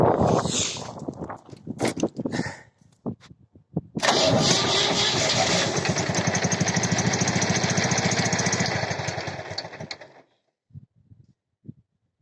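A Prykarpatets mini tractor engine cranks and catches on a cold near-freezing day, then runs steadily at a loud, even idle for about six seconds before cutting off, preceded by clanks and footsteps.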